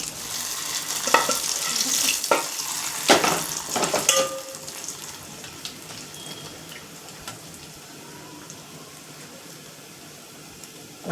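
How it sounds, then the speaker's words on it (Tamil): Spices tempered in hot oil for South Indian rasam, a burst of loud crackling sizzle with stirring clatter over the first few seconds, then settling into a quieter, steady fry. "ரசத்துக்கு தாளிப்பு"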